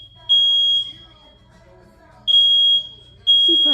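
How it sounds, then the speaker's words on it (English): A hotel fire alarm sounds at night, three loud sustained tones cutting in and out over a quiet room background. "It's the fire alarm, Murphy. Not the smoke detector. It's the fire alarm."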